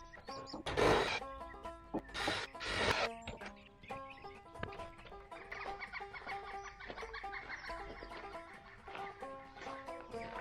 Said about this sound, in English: That's a pileated woodpecker